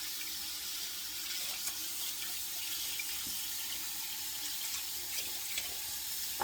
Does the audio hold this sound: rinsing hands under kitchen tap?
yes